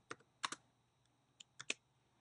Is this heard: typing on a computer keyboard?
yes